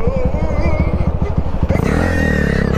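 A motorcycle carrying two riders on a road, its engine chugging in a fast, steady pulse close by, then shifting to a smoother, higher drone as it picks up speed.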